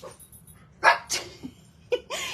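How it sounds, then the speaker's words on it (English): A small 10-pound dog gives several short, sharp yips and barks spaced irregularly, close and fairly loud, with brief quiet gaps between them. "Can you hear her? That's Gidget Louise. That little bark is Gidget, and she gets everybody going"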